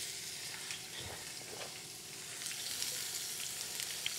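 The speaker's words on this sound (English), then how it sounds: "First, we're gonna saute the onion" Onion sautés in neutral oil in a pot for seafood chowder, with a steady soft sizzle and a few faint stirring touches, fairly quiet and even, growing slightly fuller toward the end.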